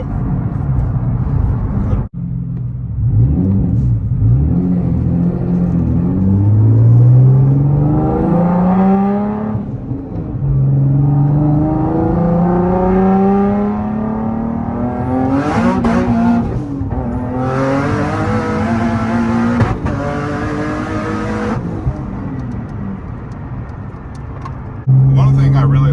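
A turbocharged Nismo 370Z with a stock engine making over 600 wheel horsepower revs hard through repeated rising gear pulls and a wheel-spinning burnout, loud and close, with shift breaks between climbing engine tones.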